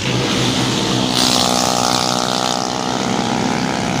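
Loud, continuous roar of many racing motorcycles passing close by at a festival racing point at night, engines droning and swelling with no break.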